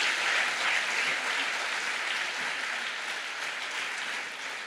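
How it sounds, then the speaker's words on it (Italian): Audience applause at a live talk event, an even, moderately loud patter of many hands clapping throughout, slowly easing off, with no voices over it. "facciamo un applauso a questa fonte"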